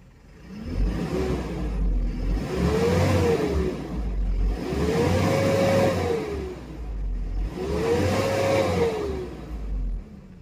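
A Mitsubishi Canter Euro 4 diesel truck engine runs at about 800 rpm, a close, steady idle rumble that swells and eases in slow repeating waves, with no talk over it.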